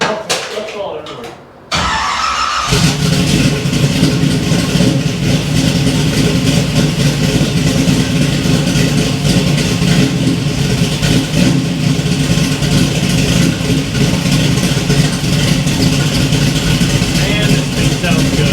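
A 1967 Camaro V8 cranks and fires up after a short quiet moment, then settles into a loud, steady, rumbling idle close by, with occasional voices over it.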